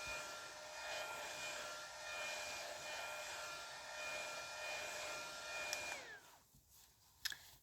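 A hair dryer blows steadily on a face to cool the skin, a whining airflow with tonal hum that runs at even strength, then cuts off near the end with a falling whine and a couple of faint clicks.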